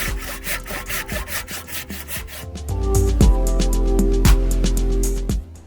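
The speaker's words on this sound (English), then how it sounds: "I needed a handsaw to cut that hickory, so I went and purchased a 12-point handsaw." A 12-point handsaw cuts through hickory wood in steady back-and-forth strokes, close and fairly loud, first as a quicker rasping run and then as heavier, longer strokes, with no talk.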